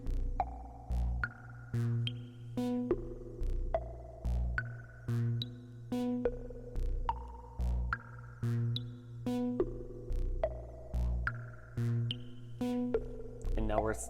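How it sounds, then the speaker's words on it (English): Eurorack synth oscillator tones plinking in a repeating pattern of short notes whose pitches jump unpredictably under random control voltage, over a steady low pulsing bass, with a voice talking underneath. "we're sending control voltage into the CV in of the oscillator, which is then changing the tones randomly"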